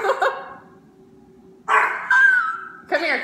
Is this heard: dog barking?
yes